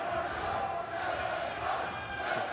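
A wrestling crowd at a live Defiant Wrestling event shouts and chants in a continuous loud roar of massed voices, with no break across the whole stretch.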